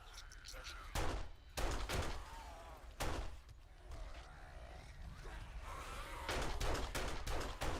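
Gunfire from the survival game 7 Days to Die, a handful of sharp separate shots spaced a second or two apart with a busy background hum and faint voices underneath.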